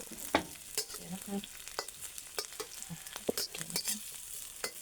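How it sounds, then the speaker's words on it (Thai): Shallots frying in oil until golden for a home-style curry: a dense crackling sizzle with sharp pops and spatula scrapes, close by and steady throughout, with no voices. "เจียวเจียวหอมแดงให้เหลืองก่อนนะคะ"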